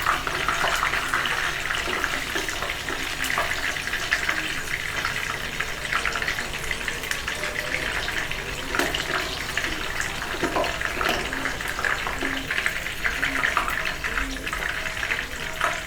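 Chicken 65 pieces deep fry in hot oil, a continuous, even sizzle with fine crackling that runs unbroken at moderate volume throughout.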